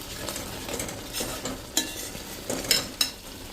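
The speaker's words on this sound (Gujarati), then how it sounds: "તો હવે એને આપણે મિક્સ કરી લેશું અને મસાલા કરશું." A spoon stirs cooked onion and tomato puree in hot oil in a pan for an onion curry, making soft scraping and gentle sizzling with a few louder scrapes near the end. No one speaks.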